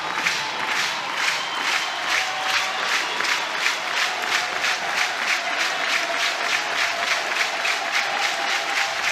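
A softball crowd at Love's Field, Oklahoma, in a women's college game against Alabama, claps and cheers in a steady, loud, rhythmic wave of applause that holds for the whole stretch, with no voices standing out.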